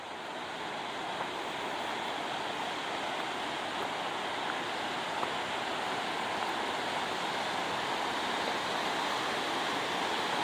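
Lake water pours over a waterfall in a forest, a steady, dense rushing roar that holds constant throughout with no voices.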